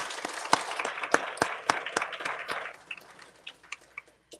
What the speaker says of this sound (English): So big round of applause for our class.